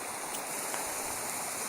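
Steady rushing of river water flowing near Slaley, a continuous broadband wash without pauses, close by and fairly loud, with no voices.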